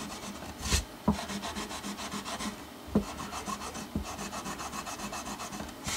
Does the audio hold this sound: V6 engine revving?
no